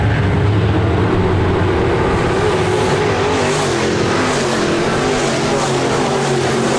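Sprint race cars roar around the Park Jefferson Speedway oval, their loud engines a dense, continuous drone throughout with some car-to-car rubbing exiting turn 4, heard over the PA-style race commentary.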